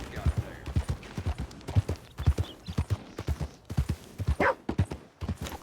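Horse hooves clip-clop in a steady, rhythmic gait through a Red Dead Online game scene, fairly close and clear, with a voice speaking briefly alongside.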